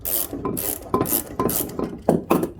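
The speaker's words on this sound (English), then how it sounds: "I just loosened it up with this 16-inch or 5/8 socket" A socket wrench loosening the blade bolt on a Greenworks lawn mower, heard as a repeated rasping ratchet in short strokes, about six bursts with pauses between them, close up and without talking.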